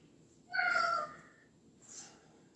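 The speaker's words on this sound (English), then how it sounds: "Hey there, cat." A cat meows once, clear and fairly close, a drawn-out cry followed by a fainter second call after a short pause in a quiet room.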